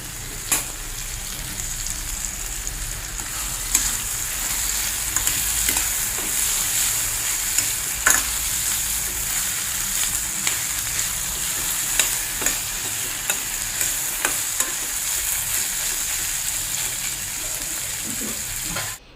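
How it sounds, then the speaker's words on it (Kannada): Ridge gourd, green chillies and onion fry in a cooking pot, a steady sizzle broken by frequent scraping stirs of a spoon, close and continuous with no talking. "ಹೀರಿಕಾಯಿ ಮತ್ತು ಹಸಿಮೆಣಸಿನ್ಕಾಯಿ, ಈರುಳ್ಳಿ ಎಲ್ಲ ಬೆಂದ ನಂತರ"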